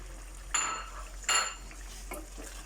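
A spoon stirs tinned fish in gravy in a cooking pot, making two distinct metallic scrapes and clinks against the pot followed by a softer third, over a low steady hum.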